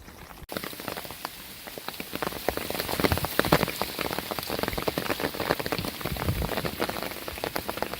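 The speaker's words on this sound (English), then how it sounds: "We're getting some hail now, huh?" Dense, steady pattering of hail pellets striking a surface on a mountain trail, a continuous crackling patter that builds slightly and holds for several seconds with no voices.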